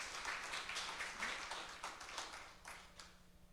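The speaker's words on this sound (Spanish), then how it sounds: "Denle el aplauso al Señor en esta mañana." A church congregation at a morning service claps for the Lord, a fairly faint scattering of hands with a few sharper individual claps, thinning out toward the end over a steady low hum.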